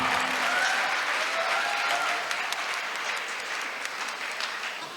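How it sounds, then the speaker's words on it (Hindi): Loud, sustained applause from an audience at a Saraswati Puja cultural program, dense clapping filling the whole stretch without a break and easing slightly toward the end. "जोरदार तालियां।"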